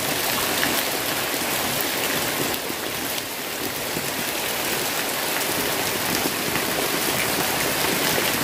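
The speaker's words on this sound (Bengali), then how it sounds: "প্রচুর বৃষ্টি নামছে, প্রচুর।" Heavy rain pouring down at a house in Bangladesh, a loud dense continuous roar of water that stays steady throughout, with no voices.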